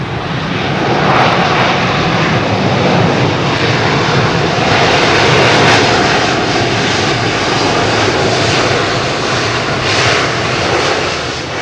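A China Southern airliner landing on runway 27R at Heathrow, a broad steady engine roar heard from nearby that holds loud and even throughout with no voices.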